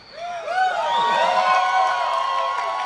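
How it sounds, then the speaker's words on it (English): An outdoor bluegrass festival crowd in Chattanooga, Tennessee, cheers, whoops and claps loudly, a sustained burst of applause with high whistles rising above it and no talk. "Can we hear a gracious round of applause for the river?"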